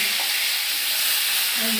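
A hilsa fish head fries in hot oil, giving a close, loud, steady sizzle with faint spattering throughout the short stretch, no voices.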